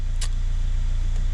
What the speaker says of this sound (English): You couldn't rev it up like it is now.